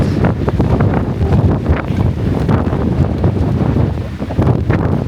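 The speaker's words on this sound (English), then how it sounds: "It's very windy today." Heavy wind buffeting the microphone on a road near Narai-juku, Japan, a steady loud rumble with gusty bursts throughout and no talking.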